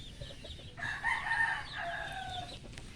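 A rooster crows once at a moderate distance, a short drawn-out call over quiet background.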